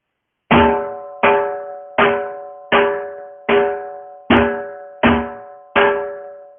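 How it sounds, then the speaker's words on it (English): A dhol drum plays one cycle of the chaal rhythm: eight evenly spaced, resonant hits with ringing tone, each decaying before the next, played alone and close. "Now if I just transfer those notes onto the dhol, it should look and sound like this."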